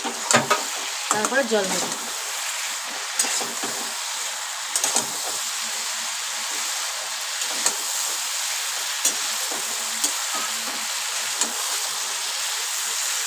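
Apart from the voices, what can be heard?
egg fritters being sautéed in a pan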